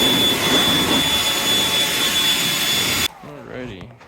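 Compressed air blasting through baler parts inside a shop, a loud steady hiss that cuts off abruptly, followed by brief talk.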